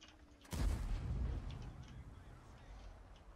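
A single tank cannon shot in the World of Tanks video game, a sudden loud boom that trails off into a long rumbling decay, heard alone.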